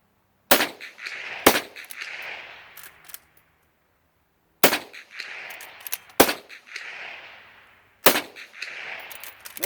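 Five loud, sharp gunshots from an Ithaca Saddle Gun .22 Magnum rifle fired outdoors at targets, including a propane cylinder, spaced irregularly with brief ringing decay and quiet gaps between shots.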